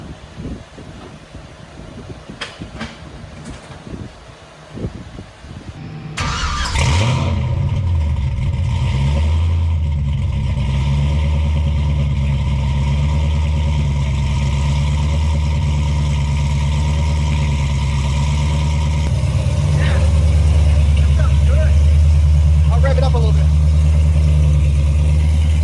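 A car with a swapped cam and a new exhaust and muffler cranks and fires up, settling into a loud, rumbling idle with a burst of revving near the end.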